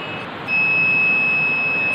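A single steady high-pitched electronic buzzer beep switches on and holds continuously when an object detection project detects an object, loud and close, over a low background hum.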